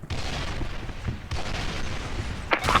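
Video-game grenade blast and gunfire: dense, continuous bursts of shots and booms rumble nonstop for a few seconds at a steady loud level, with a brief dip midway and a sharper crack near the end.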